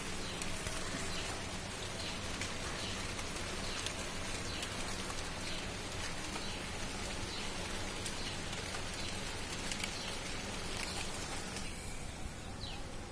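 Rain falls on a rooftop in a garden, a dense, continuous hiss of drops steady throughout, moderately loud and close, with no talking.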